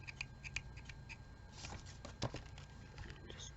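Scissors trimming paper craft pieces from a pumpkin-themed kit, faint quiet snips and small rustles close by, scattered irregularly over a soft background.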